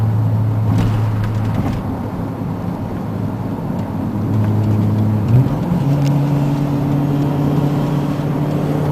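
Mercedes C63 AMG Touring engine drones loudly and steadily, then its pitch steps up partway through as it accelerates, heard close and without talk.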